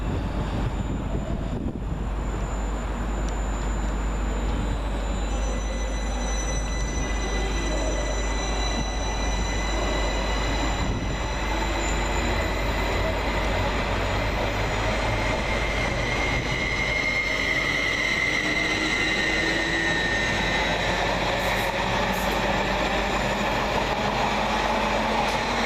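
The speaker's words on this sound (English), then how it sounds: "departing in the opposite direction is 745102, working the 1552 Greater Anglia Stansted Express service" A Class 745 Greater Anglia Stansted Express train departs Tottenham Hale station, a loud, steady rumble of wheels and traction with faint squealing tones drifting above it throughout.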